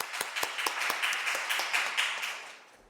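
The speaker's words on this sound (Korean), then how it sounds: "박수로 맞이해주세요." A festival audience claps to welcome two speakers to a critique workshop, a short round of moderately close applause with distinct individual claps that fades out.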